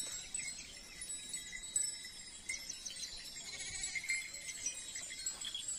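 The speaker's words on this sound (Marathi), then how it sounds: "आम्ही आलेलो आहोत मेंढ्या चारायला" A flock of sheep grazing in an onion field bleats in scattered, overlapping calls at a moderate distance, with steady faint outdoor background and no talk.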